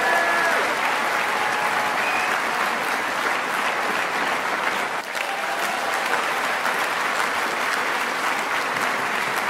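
A large crowd of political supporters applauds steadily and loudly, dense clapping that holds without a break from start to finish.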